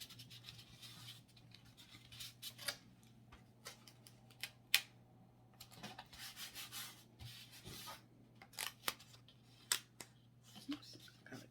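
A blade or knife cuts an X into a junk journal cover in short, quiet scratching and scraping strokes, close and intermittent with pauses between.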